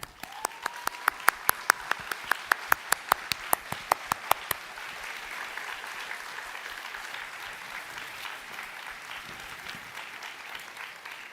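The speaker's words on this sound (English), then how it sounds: "Stand up and turn around and face your family and friends and give them a fantastic round of" Graduates at a business school undergraduate ceremony applaud their families and friends. It opens with sharp, rhythmic claps that merge into sustained, dense applause from a large seated crowd, and the sound fades slowly.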